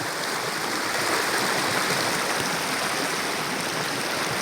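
A mountain stream flows with a steady, broadband rush that stays constant and fairly close, with no voices over it.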